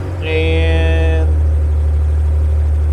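A cheap tow truck's engine idles after repair work, a steady, loud low rumble with a brief higher tonal whine near the start that then drops away while the idle continues alone.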